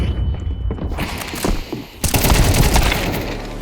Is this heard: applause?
no